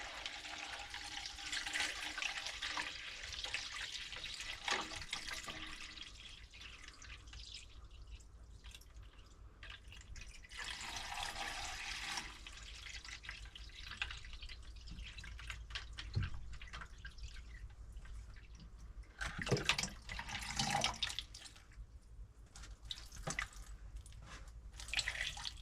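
Vinegar pours steadily into a fuel tank being filled for rust treatment, a continuous close liquid gush and trickle with drips, swelling louder near the end as the tank nears the top.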